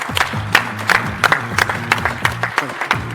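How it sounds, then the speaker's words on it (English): Summit audience applauding, a dense, steady wash of many hands clapping with sharp individual claps popping through, sustained at full loudness from start to finish. "Can we have a round of applause, please? Have a round of applause."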